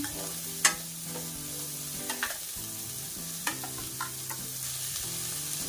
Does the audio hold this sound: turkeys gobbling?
no